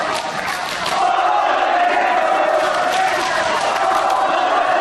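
Fans at an Irish Whip Wrestling match between AJ Styles and Chris Daniels roar and chant continuously, a dense, loud crowd sound with voices split between the two wrestlers.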